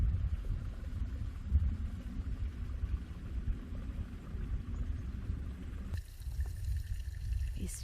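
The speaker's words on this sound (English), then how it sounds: "And here is the waterfall." A small waterfall in a cold winter setting gives a steady, low rushing wash of falling water, continuous and moderately close, with a slight shift in tone near the end.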